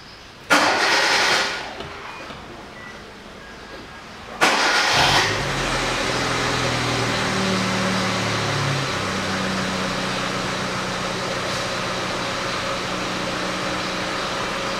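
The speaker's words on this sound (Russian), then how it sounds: "и теперь, пока ничего здесь не закрывая, заводим автомобиль, проверяем," A Hyundai Accent 1.5 petrol engine is cranked, first a short attempt and then a second crank that catches, settling into a steady, close idle for the rest of the clip.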